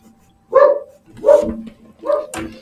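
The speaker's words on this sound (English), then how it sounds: "He wants to come in, and he wants to bark at something outside." A dog indoors barks three times in steady succession, loud and close, each bark short and full with a slightly yelping edge, and with pauses between them.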